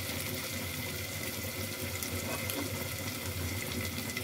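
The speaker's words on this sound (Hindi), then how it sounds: "अब इसमें पानी डाल देंगे।" Boiled, cooled water is poured into a pot of mutton curry, making a steady, continuous splashing rush with no pauses and no talking.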